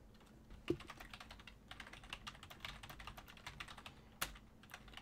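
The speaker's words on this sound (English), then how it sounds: "I'm just typing out my match results there." Quick bursts of keystrokes clatter on a computer keyboard, close and fairly quiet, with irregular taps and a couple of sharper key hits standing out.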